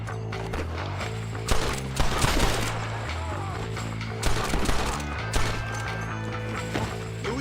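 A shootout in the Red Dead Redemption video game, with repeated loud gunshot bursts and rattling volleys over a droning game soundtrack, heavy and close.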